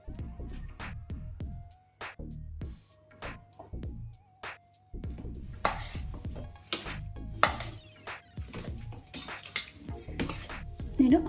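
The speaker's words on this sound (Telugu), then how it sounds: "ఇప్పుడు ఈ మామిడికాయ ముక్కలు కూడా ఇందులో వేసేసి కలిపేసుకుందాం." Mango pieces being mixed into coconut mango pickle in a metal bowl, a run of clinking, scraping spoon-on-bowl strokes in irregular rhythm, close and moderately quiet, with no talking.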